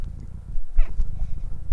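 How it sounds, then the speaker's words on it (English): Large house cat calling out once with a short, fairly loud meow close by, set against low room noise; no talking. "Giant cat."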